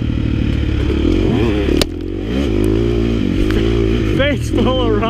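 Off-road dirt bike, a 2017 Yamaha YZ250X two-stroke or KTM 350 XC-F, loudly running and revving under riding strain with rising and falling engine pitch, a brief cut near two seconds, and voices talking over it.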